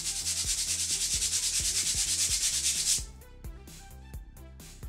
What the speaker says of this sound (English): I took some 150 grit sandpaper and sanded the bottom of it to get it to sit flat